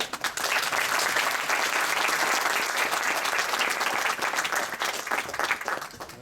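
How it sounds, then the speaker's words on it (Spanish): Sustained applause from an audience fills the room, steady clapping from many hands that begins abruptly and carries on loudly throughout. "Un aplauso al chelista"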